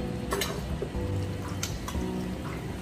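Chopped spring onions are stirred into a homemade sauce, giving a steady wet squelching and scraping of spoon against bowl, close and moderately loud with a few sharper clinks.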